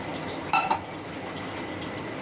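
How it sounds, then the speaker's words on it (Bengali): Water is poured from a measuring bowl into gram flour and yogurt batter for pakoras, a short close splash and trickle lasting about two seconds. "সেই বাটি মেপে আমি জল দিয়ে দেব"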